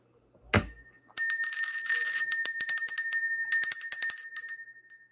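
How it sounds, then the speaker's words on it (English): Bell rung to clear energy during a spiritual session, one soft knock then a long bright run of rapid ringing strikes, briefly pausing and resuming before fading out, clear and close with no talking. "Let's ring that bell."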